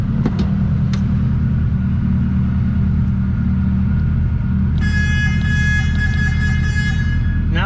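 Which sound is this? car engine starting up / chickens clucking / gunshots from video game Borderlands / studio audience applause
car engine starting up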